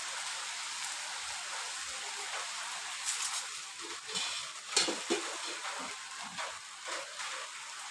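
An onion dosa fries on a hot pan, giving a steady soft sizzle like light rain with a few sharper crackles and pops, quiet and close, with no one speaking.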